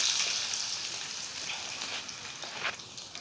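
Potatoes for aloo bhujia frying in a pan over low heat, a steady soft sizzle with crackly pops, fairly quiet and close, no voices.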